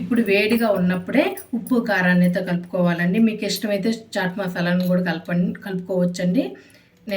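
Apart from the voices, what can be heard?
None of the usual background noises is heard.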